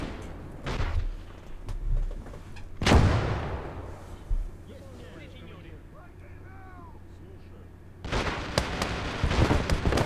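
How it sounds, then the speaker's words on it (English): Gunfire aimed at an enemy mortar in the Call to Arms: Gate of Hell video game, with loud booming shots and bursts early and late, a quieter stretch between them, and a voice speaking over the battle. "We rush through the smoke and start taking pot shots at the mortar."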